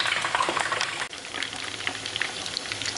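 Broth is poured into a hot pan of lightly browned meatballs, giving a steady, dense hiss and sizzle that fills the whole clip, with one brief dip in the middle and no voices.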